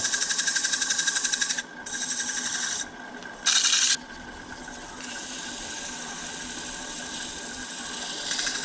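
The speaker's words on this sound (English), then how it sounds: "You can hear the skip, skip, skip, skip thing. That's the soft tear out part going by." A tiger-striped maple tray is sanded, making a loud, close rasping rub. Rhythmic skipping pulses come where the abrasive passes over soft tear-out, then the stroke shifts to a smoother, steadier scrape.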